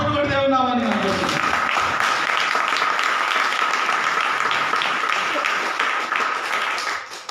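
A church congregation claps continuously in a dense, steady wash, with a voice heard over the opening moments.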